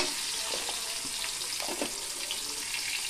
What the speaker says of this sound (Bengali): এই হলুদ আর লবণ দিয়ে আমটাকে হালকা একটু ভেজে নেব।